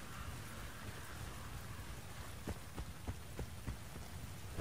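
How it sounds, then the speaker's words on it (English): Rain falling in the video game Battlefield: Bad Company 2, a steady hiss of rainfall under a low hum, with a series of sharp tapping knocks toward the end. "Oh, it's raining now."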